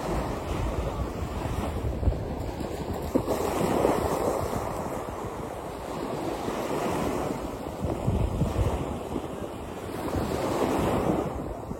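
Waves roll onto a beach on the French Mediterranean coast in steady, rushing surges, with wind buffeting the microphone throughout and no voices.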